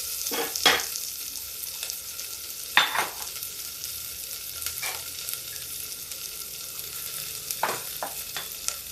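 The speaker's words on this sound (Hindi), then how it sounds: "अब इसको हम फ्राई करेंगे, हल्का हल्का भून लेंगे।" Chopped onions and spices fry lightly in oil with a soft, low sizzle, while a spatula scrapes the pan now and then in sharp, scattered strokes. No one speaks.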